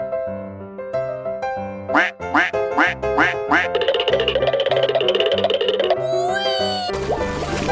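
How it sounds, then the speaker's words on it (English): A cartoonish duck quacks in a quick run of distinct, bright calls over a bouncy musical backing that plays steadily throughout. "Quack, quack, quack, quack, quack."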